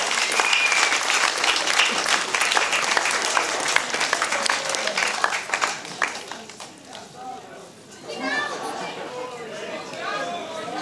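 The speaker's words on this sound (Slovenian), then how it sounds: "dajmo njim en aplavz za tole odlično igro" Applause for a winning women's football team at a football marathon event, a dense, loud clapping crowd that thins toward the end as chatter and voices take over.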